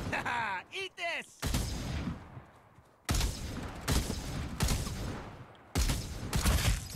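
Gunfire rings out in the video game Farlight 84 as heavy, booming shots hit in loud bursts, close and forceful. A short voiced sound comes just before the firing starts.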